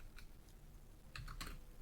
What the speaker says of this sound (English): Start typing in Separate